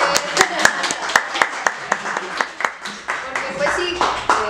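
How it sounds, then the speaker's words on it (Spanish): Scattered hand claps from an audience in a room during a ukulele interview, uneven and moderately close, sounding alongside ongoing talk. "Aplaudan todos en la sala"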